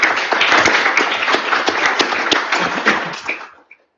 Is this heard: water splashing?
no